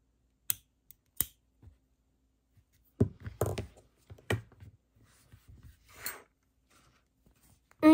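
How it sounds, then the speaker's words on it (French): Scissors snip yarn ends after a knot in a Tunisian crochet coaster made from leftover yarn: a few sharp, close clicks and cuts separated by quiet gaps. "on va pouvoir donc venir couper nos fils"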